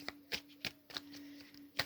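Tarot cards are shuffled by hand in three or four quick crisp riffles spaced evenly apart, close and fairly quiet with no talking over them.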